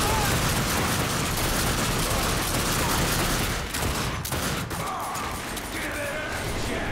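Gunfire in The Darkness 2 video game, a loud sustained barrage of shots with crashing impacts filling the whole stretch, briefly thinning partway through before resuming.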